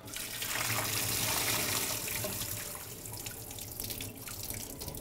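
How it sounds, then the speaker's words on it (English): Water poured out of a water system's sediment prefilter housing during a filter change, a steady close splashing gush that eases slightly toward the end, with no talking. "Pour out the water."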